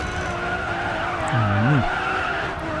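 A Lamborghini Reveton in the racing game Racing Master lets out a sharp rising-and-falling tire squeal while skidding, lasting about half a second over a steady loud engine drone.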